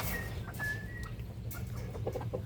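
Hens cluck softly in their nesting area under a sack-shade shelter, scattered low calls over a steady background hum with a faint whistling tone early on.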